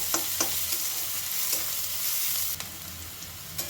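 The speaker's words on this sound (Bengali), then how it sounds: "এবারে দিচ্ছি রসুন কুচি। এখানে কিন্তু রসুনটা একটু বেশি পরিমাণেই লাগবে। ভালো করে সব কিছু একটু লাল করে ভেজে নেব।" Chopped garlic frying in a pan, a soft continuous sizzle broken by occasional stirring knocks and scrapes, close by with no talking.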